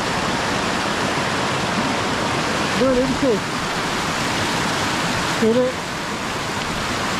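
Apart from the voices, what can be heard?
waterfall in Iceland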